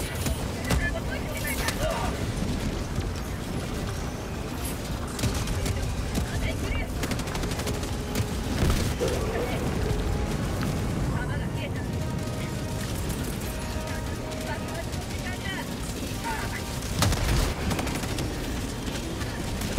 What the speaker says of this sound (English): Is that shooting in your direction?